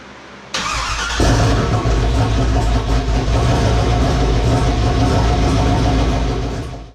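A TBSS 6.0 engine fires up after a hot-side build, catching with a sudden roar that settles into a loud, steady, rumbling idle before cutting off at the end.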